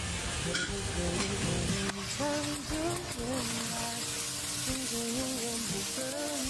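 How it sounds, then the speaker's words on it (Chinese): Eggs being stir-fried with waipo cai preserved vegetables, a constant loud sizzle with scraping stirs throughout, mixed with background music. "最后来个外婆菜炒蛋"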